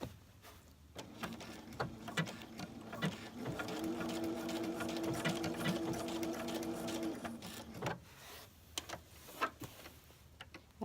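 A domestic sewing machine stitches a baby burp cloth in blue thread, a steady whirring run of several seconds between slower starting and stopping ticks, heard up close.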